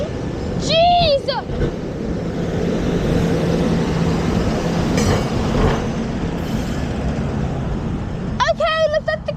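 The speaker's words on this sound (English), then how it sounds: "This is a long train." A long train passes near a bike ride, a steady loud rolling rumble of rail cars with brief high wheel squeals at the start and end, while people speak excitedly nearby.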